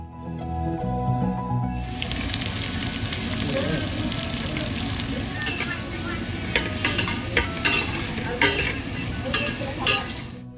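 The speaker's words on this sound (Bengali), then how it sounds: "অল্প পেঁয়াজ কুচি করে পেঁয়াজ কুচিটাও সেই ভাজা রসুনের মধ্যে দিয়ে দিই" Chopped onion added to oil with fried garlic sizzles loudly after a quieter start, with steady frying hiss and occasional scraping stir sounds, close up and continuous.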